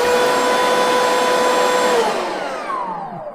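A Bosch GAS12V 12-volt lithium-ion cordless vacuum cleaner runs close by with a loud, steady motor whine and airflow roar, then spins down and fades toward the end.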